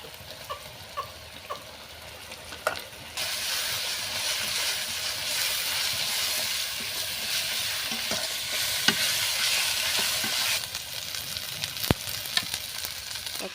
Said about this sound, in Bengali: যে পেস্টটা করে রেখেছিলাম আদা রসুন, সেটা দিয়ে ভালো করে মশলাটাকে কষাবো।